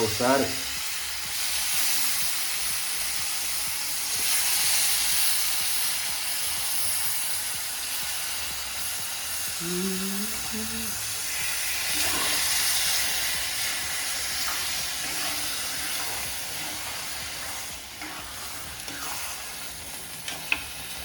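Oyster meat frying and being stirred into a masala mix in a pan, with a steady sizzling hiss throughout and occasional scraping stir strokes, heard alone without talk.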